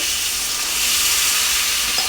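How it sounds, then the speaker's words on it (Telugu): Godavari-style korameenu fish curry being stirred in a wide pot just after water is added, a steady bubbling sizzle and hiss with faint scraping, close and continuous. "ఒకసారి మళ్ళీ కలుపుతానండి."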